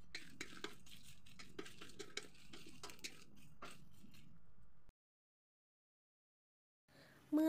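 Dried chilies, shallots and garlic dry-roasting in a pan, with a run of light tapping and scraping clicks from a utensil moving them, close and quiet, then a long silence before a brief louder clatter.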